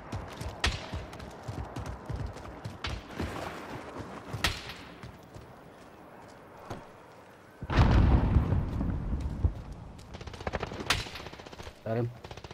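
Bursts of automatic rifle fire and single shots from an AK-47 in Call of Duty Warzone, some sharp and close, others distant, with a heavier volley of gunfire near the middle; voices talk intermittently.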